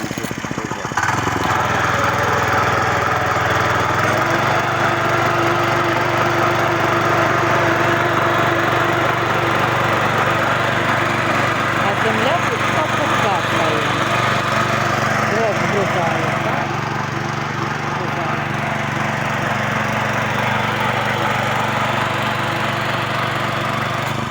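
A walk-behind tractor tills garden soil in first gear, its engine running as a steady, loud drone with a constant low rumble that holds unbroken throughout and dips only slightly near the end.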